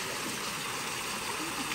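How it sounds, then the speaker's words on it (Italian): Water from the Fontana dei Giganti in Viterbo runs in a steady, broad splashing rush, a continuous outdoor wash of falling water with no pauses. "Ok ragazzi, questa è la fontana dei giganti."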